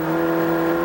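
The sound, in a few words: race car engine having a problem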